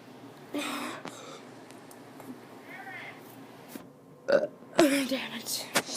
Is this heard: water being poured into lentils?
no